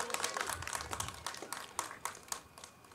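A small outdoor rally crowd gives faint, scattered applause, loose individual claps at an uneven rhythm heard from a distance.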